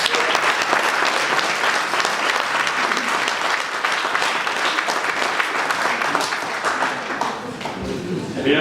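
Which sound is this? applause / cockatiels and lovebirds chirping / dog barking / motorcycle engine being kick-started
applause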